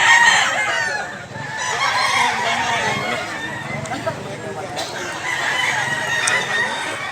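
Gamecock stags, Gilmore Hatch black-legs at a farm in Mantalungon, Cebu, crow loudly nearby and cluck between calls, while people talk over the birds throughout.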